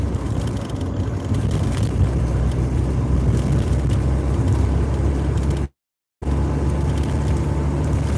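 A car driving along a road, a steady loud rumble of engine and tire noise with wind buffeting, broken by one brief dropout of silence near the end.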